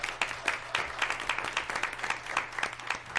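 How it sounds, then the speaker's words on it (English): An audience at a regular public meeting claps for a staff member in a round of distinct, fairly close handclaps at a quick, uneven rhythm, over a low steady hum, with no talking. "Let's give him a round of applause."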